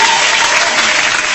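Loud, close applause from a crowd follows a song on a music television show, a dense and steady burst of clapping over a short stretch.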